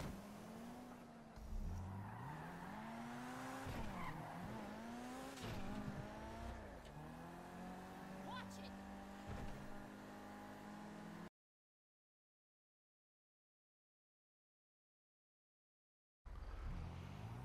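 A car in a video game engine revs and shifts with rising and falling whines and brief tire squeals, running steadily before dropping to total silence and then returning.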